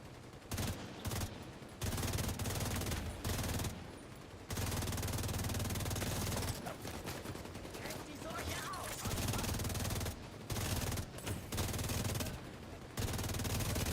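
Light machine gun fire in The Division 2 video game, loud sustained bursts of rapid automatic shots separated by short pauses, with a player talking intermittently over the action.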